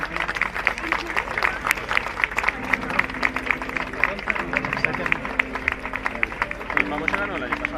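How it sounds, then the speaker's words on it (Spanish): A crowd at an international sporting event's award ceremony gives a loud, sustained round of applause, dense clapping mixed with cheers and chatter throughout. "Y les damos un fuerte aplauso"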